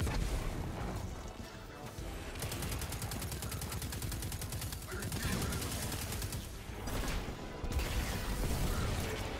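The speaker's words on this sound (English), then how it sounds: "Oh yeah, see, arc bolt grenade." Arc bolt grenade going off in the Destiny 2 closed beta on PS4: a dense stretch of rapid mechanical crackling and chattering bursts, steady and loud for several seconds among other game sounds.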